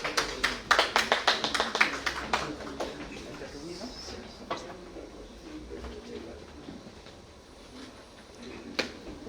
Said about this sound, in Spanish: Lo recibimos con un voto de aplauso.